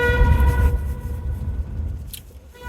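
A vehicle horn blares in a steady, sustained tone for under a second over low traffic rumble, then the street noise carries on without it.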